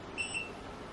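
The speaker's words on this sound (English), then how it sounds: "So I'll turn on the timer." A kitchen timer being switched on while drip coffee is made gives two quick, faint, high-pitched beeps close together near the start, then quiet room hiss.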